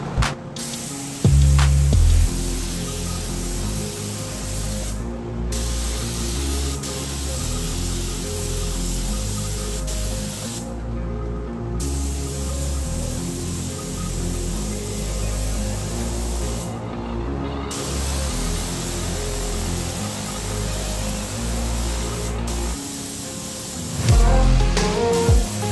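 A Sagola Mini Xtreme spray gun sprays a second coat of silver base paint, a loud continuous hiss of atomised air broken by a few short pauses between passes, up close with no talking.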